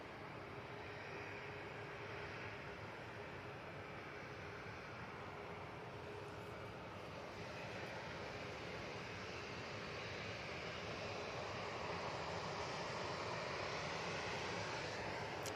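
An Embraer ERJ145 jet at Manchester Airport produces a steady, broad engine roar with a whining high tone, heard from a distance and holding constant throughout, with no talking.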